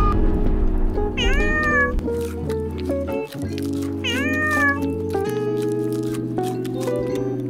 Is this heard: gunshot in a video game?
no